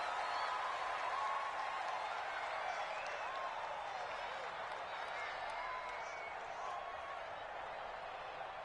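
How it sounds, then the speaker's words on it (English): Raucous football game crowd roaring steadily throughout, a dense wall of cheering and shouting with some clapping, loud and sustained without a break. "in front of a raucous crowd, this one is underway"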